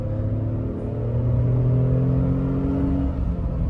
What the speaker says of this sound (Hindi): आवाज अब इंजन की आपको आ रही होगी